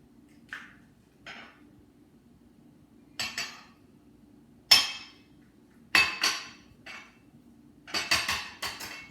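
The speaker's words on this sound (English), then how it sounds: "I'm going to crack the eggs to my little plate over here." Eggs cracked one after another against a small plate for matzah ball soup, sharp clinking knocks spaced a second or two apart, close and clear, with no talk.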